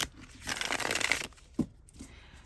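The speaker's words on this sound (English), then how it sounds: "I'm just gonna shuffle it again because it's fun." A tarot deck is riffle-shuffled up close, giving a quick ripple of card flicks followed by a soft tap as the cards settle, then quiet.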